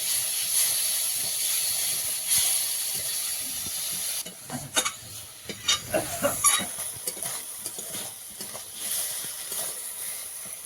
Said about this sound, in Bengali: মশলাটা আলুর সঙ্গে ভালোভাবে মিশিয়ে দেবে